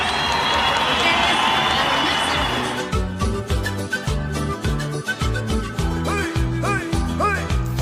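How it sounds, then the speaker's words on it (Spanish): A crowd claps and cheers steadily, a broad wash of applause that fades into rhythmic music with drums after about three seconds. "Fuertes los aplausos para cada una de las candidatas."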